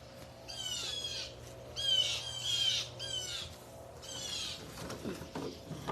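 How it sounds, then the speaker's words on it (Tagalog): Harsh bird squawks come in repeated clusters, crow-like and fairly close, then fade into softer rustling noise near the end. "Ang daming ibon."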